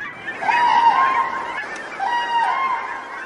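Wild geese honking in flight, two long drawn-out nasal honks fairly close and loud with a short gap between them, alone without talk.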